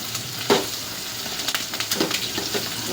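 Curry ingredients for black-eyed peas with dry fish sizzle steadily in a hot pan, with close stirring scrapes and light clinks over the constant frying hiss.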